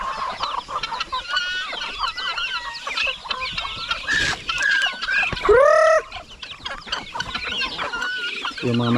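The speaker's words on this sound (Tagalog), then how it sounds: "Yung mga manok natin na andon" Farmyard chickens, including roosters, clucking and squawking close by in a busy, overlapping chorus, with other bird calls mixed in and one loud drawn-out squawk near the middle.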